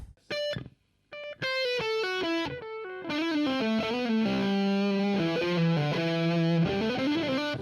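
Distorted electric guitar plays a run of notes, then sustained chords with echoing delay repeats trailing behind them, loud and alone, through a Rocktron expression unit and a One Control Mosquite Blender pedal.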